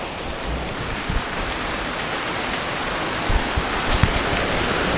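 Rain falls steadily on a sailboat during an upwind passage, a dense even patter of drops with a few louder taps on the surface, no voices.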